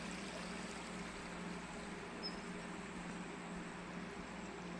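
Faint, steady rush of water flowing into a forest pond near a temple, heard as a soft continuous hiss from some distance, with no other clear sounds standing out.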